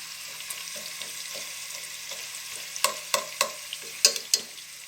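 Sliced onions sizzle in oil in a pan for Thalassery-style chicken dum biryani, a soft steady frying hiss broken by a series of sharp spatula scrapes and clinks against the pan, close up, no one speaking.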